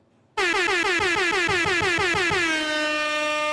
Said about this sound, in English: Wait, where's my air horn?